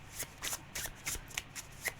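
Tarot cards being shuffled by hand during a reading, a series of about seven crisp riffling bursts in a quick, uneven rhythm, close and clear with no voice over them.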